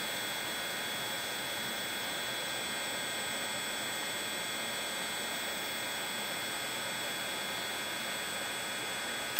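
Heat gun blowing hot air onto plastic toy tire rims where they meet the axle, a constant even whooshing roar with a faint high whine, close and unchanging for the whole stretch.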